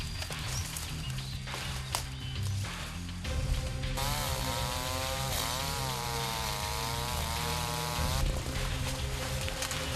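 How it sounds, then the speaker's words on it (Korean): A chainsaw whines and revs steadily, its pitch rising and falling as it bites into timber at a jungle logging site in Java, Indonesia, loud and close throughout. "벌목을 돕는 장비는 전기톱 하나뿐."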